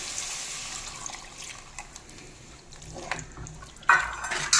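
Water is poured into a clay cooking pot (chatti) while a spicy village-style murrel fish curry is made, with a soft running trickle and a louder splash near the end over a quiet kitchen background.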